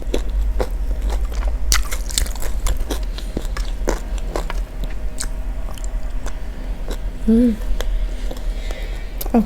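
Close-up biting and chewing of rice with chicken serundeng, crispy fried tempe and shrimp-paste chili sambal: repeated crunchy bites and wet, squishy chewing in an irregular rhythm, with a brief voice sound near the end.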